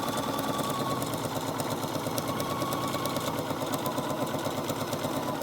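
A sewing machine stitching fabric for a Japanese bento bag, a loud, steady rapid mechanical whir and needle chatter running without pause, no talk.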